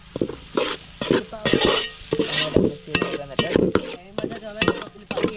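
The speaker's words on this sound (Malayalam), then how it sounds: "നമുക്കിനി ഇഞ്ചി വെളുത്തുള്ളി പേസ്റ്റ് ഇട്ട് കൊടുക്കാം." Ginger garlic paste fried in a pan and stirred, with repeated scraping strokes over a steady sizzle, close and clear, with faint clinks of the utensil.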